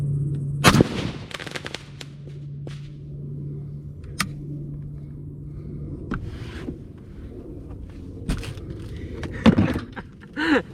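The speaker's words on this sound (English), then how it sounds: "we're gonna go shoot it with a 308 and see if we can't get it to go off" A .308 rifle shot fired outdoors at an old firework mortar shell sitting on a stump, giving a loud sharp crack near the start, followed by a sustained rumble and a few scattered bangs and pops later on.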